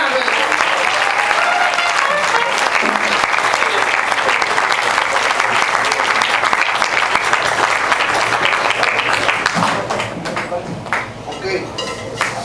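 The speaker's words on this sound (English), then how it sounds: "You're gonna clap or not?" A crowd at a Latin jazz concert claps loudly and continuously over chatter and a faint ringing ping, the applause thinning into scattered claps and voices in the final seconds.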